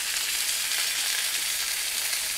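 Pork chops browning in canola oil in a pan, giving an even, continuous hissing sizzle at constant loudness from start to finish, close and alone without speech.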